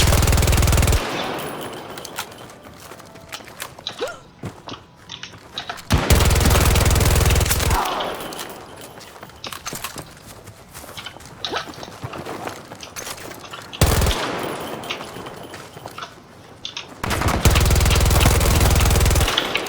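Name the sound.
gunfire in the video game Battlefield 2042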